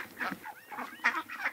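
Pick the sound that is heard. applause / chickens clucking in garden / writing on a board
chickens clucking in garden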